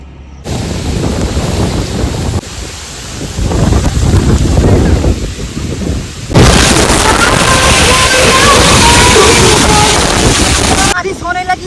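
Heavy rain pouring outdoors, a dense, loud roar of rain and wind rushing steadily, growing harsher midway, with no clear voices.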